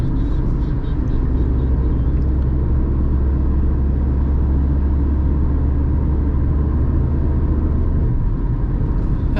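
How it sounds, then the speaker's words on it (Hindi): A Tata Tiago iCNG car running on CNG gives a steady low engine and road rumble from inside the cabin, constant and fairly loud with no talking. "देखो अभी जैसे मैं कार चला रहा हूँ कोई पावर ड्रॉप नहीं हुआ"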